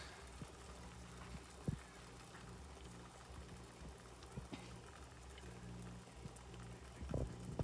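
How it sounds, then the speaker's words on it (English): Alfredo sauce of cream cheese and heavy whipping cream simmers in a pan, a faint, low bubbling with scattered soft pops and blips over a quiet steady background. "It starts boiling"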